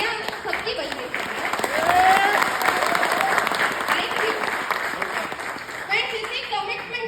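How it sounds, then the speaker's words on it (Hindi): Audience applause at a youth empowerment seminar: sustained clapping from a large crowd fills the room for several seconds, rising and fading slightly, with a voice heard over it. "क्या तालियां सबकी बज रही है।"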